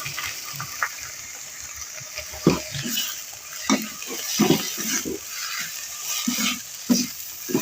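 Onions are lightly sautéed in a pan, a soft continuous sizzle broken by repeated stirring scrapes and clinks of a spoon against the pan.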